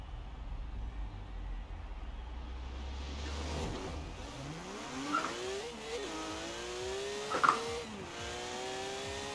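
Modified 850 horsepower VW Type 3 sleeper build on a drag run in the Forza Horizon 4 video game, an engine revving hard through rising gear sweeps with shift breaks, loud and continuous.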